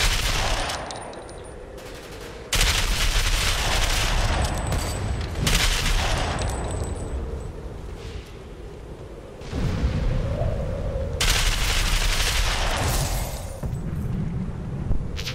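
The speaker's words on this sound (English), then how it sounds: "I am shooting the hell out of that corner." Rapid gunfire in a shooter video game, sustained bursts of automatic fire cutting in and out over about fifteen seconds, loud and close with brief gaps between volleys.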